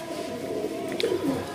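A red pigeon gives a short, soft cooing call, close by, over a steady low background hum.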